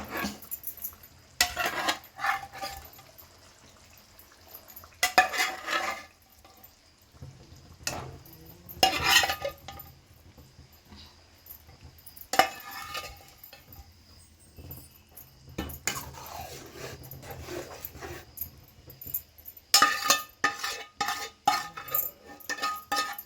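Egg curry masala with eggs frying on low flame in a pan, intermittent bursts of stirring and spatula scrapes over a soft background sizzle, close by, with quiet gaps between the clattering strokes.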